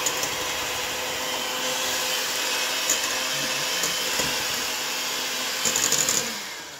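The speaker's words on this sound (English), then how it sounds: "I'm mixing in 4 eggs. We're going to mix this together." Electric hand mixer whirring steadily as four eggs are beaten into a yellow vanilla cake batter, a continuous close motor drone with faint clicks of the beaters against the bowl.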